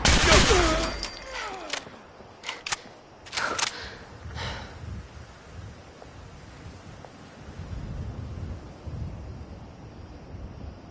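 Gunfire in Fallout 4 Nuka World: a dense burst of shots in the first few seconds, then a few scattered sharp reports and a low rumbling background fading out.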